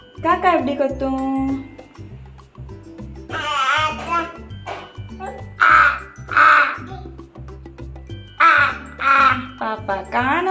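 A person mimics a crow cawing for a baby, with a string of short, harsh, nasal caws in quick bursts over a looping, rhythmic kids' music track.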